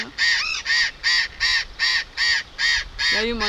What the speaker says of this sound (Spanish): acá vemos la casita de los loros en este barranco.